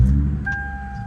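A 2011 Lexus IS350 F Sport starting with its push button: a deep engine rumble that holds steady while a thin, clear tone joins partway through, close and fairly loud, with no talking.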